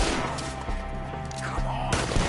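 Gunfire rings out in a video game battle against enemies perched up in trees, with dense, continuous shots and booms layered over a busy mix, fairly loud throughout and a sharper burst near the end.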